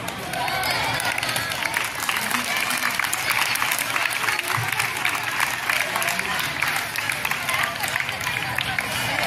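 A school audience at a Republic Day celebration claps for prize winners, steady dense applause with crowd murmur running the whole way through at moderate loudness.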